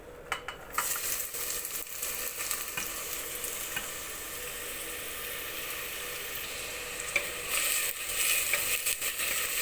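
Chopped onion, ginger, garlic, curry leaves and green chilli sizzle steadily in hot oil in a pan, with scraping stirs and faint utensil clinks throughout, close and continuous with no talk.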